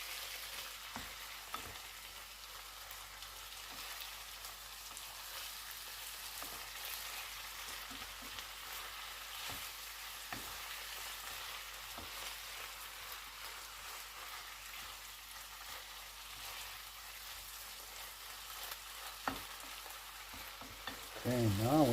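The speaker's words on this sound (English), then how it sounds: "Just give it a nice mix." Chicken and chorizo fry in a pan and are stirred, giving a continuous close sizzle with soft scraping stirs throughout and no voices.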